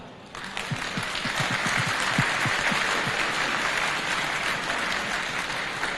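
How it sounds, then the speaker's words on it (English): Applause builds and holds from a sizable gala dinner audience at a world news media conference, with dense clapping and a few louder individual claps early on, continuing steadily. "And I ask for a big applause for the chairman of UDN, Mr. Duncan Wong."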